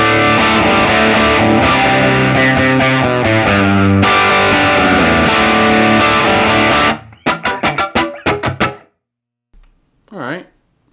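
Distorted electric guitar through a Line 6 Helix Minotaur overdrive, loud sustained chords for about seven seconds, then a run of sharp staccato stabs, followed by a short vocal sound.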